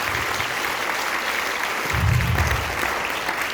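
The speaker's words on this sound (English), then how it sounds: "So how about a big round of applause?" Audience applause at a high school end-of-year concert band performance, a dense, steady round of clapping from the crowd that swells a little partway through.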